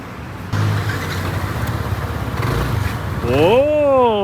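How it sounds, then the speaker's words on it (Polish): A scooter engine, just repaired, idles and then revs upward near the end, its pitch climbing in smooth sweeps over a steady motor drone, with background noise and some speech around it. "Skuter naprawiony. Jeździ jak nówka sztuka. Obroty chodzą elegancko, wysoko"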